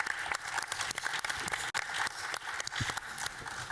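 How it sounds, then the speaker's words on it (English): Moderate applause from an audience, a dense patter of clapping that continues steadily throughout at a fairly soft level. "a round of applause"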